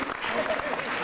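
Dense audience clapping at a book presentation, a brief steady burst with a voice faintly over it.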